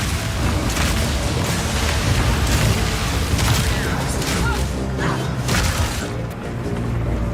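Armor-piercing crossbow bolts fire in rapid succession in Path of Exile 2, a dense fusillade of punchy booms and shattering impacts layered over loud, chaotic combat noise, easing slightly toward the end.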